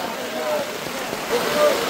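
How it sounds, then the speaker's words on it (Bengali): Heavy rain falls steadily over a market in Saidpur, a continuous hiss of rain on surfaces with some splashing, heard alone at moderate loudness with no talk. "আর প্রচুর বৃষ্টি হইতেছে এই মুহূর্তে"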